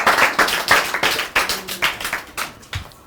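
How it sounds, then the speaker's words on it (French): Audience clapping for a young girl called up to speak at a children's televised event, a burst of sharp, uneven handclaps from a modest crowd, fading out after about three seconds. "Applaudissez Adja."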